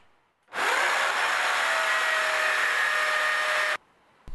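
A power drill bores into a ceiling through a small piece of taped-on plastic, running in one loud steady whine of about three seconds before stopping abruptly.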